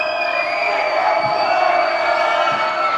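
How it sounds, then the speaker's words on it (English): Loud crowd cheering at a high school varsity boys basketball game, a dense sustained roar of voices filling the gym without a break. "That is a loud crowd."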